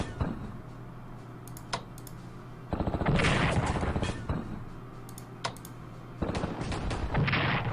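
Gunfire bursts in the World War II strategy game Strategic Command, with rapid crackling volleys in two loud spells mixed with clicks, under a faint voice.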